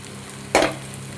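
Breadfruit hits a pan of sautéing onion and tomato, giving one brief, sharp sizzle burst that quickly fades back to a quiet background.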